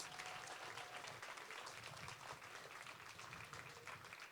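Audience at a secondary school kick-off event gives steady, dense applause that continues at an even level from start to finish, filling the room without pause.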